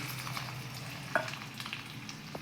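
An egg frying in oil in a pan gives a soft, steady sizzle close by, with a brief scrape or tap of a turning utensil partway through.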